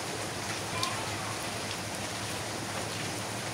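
Quiet steady rain falls outside, a soft, faint, even hiss of drops lasting a few seconds with no clear voices.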